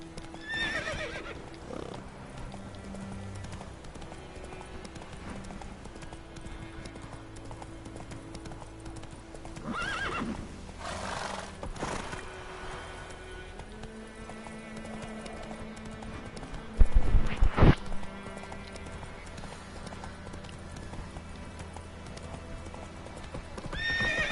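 Roach the horse from The Witcher 3 gallops with steady rhythmic hoofbeats, and a loud whinny cuts in partway through over faint game ambience.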